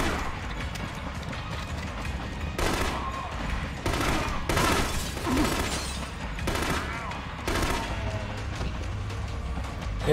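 Rapid bursts of automatic gunfire crackle and boom in The Conduit, a first-person shooter on Nintendo Wii, coming in loud clusters separated by brief lulls, with game sounds underneath.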